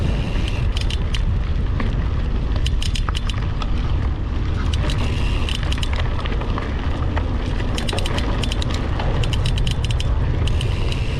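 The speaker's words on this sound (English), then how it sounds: "Apparently my seat is excited too because it's creaking quite a bit." A ride seat on the Primitive Loop creaks and ratchets continuously, loud and close, over heavy rumbling mechanical noise and rushing air with no clear pauses.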